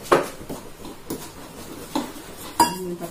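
Steel kitchen utensils and pots are set down and arranged in a home kitchen, giving several separate metallic clinks and clatters spaced out over a few seconds, close and fairly clear, with no one speaking.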